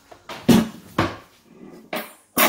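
A Navigenio pot set down on a cooktop gives several sharp metallic clunks and knocks of cookware, close and fairly loud, spaced over a couple of seconds.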